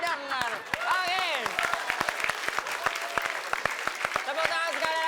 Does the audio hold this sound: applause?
yes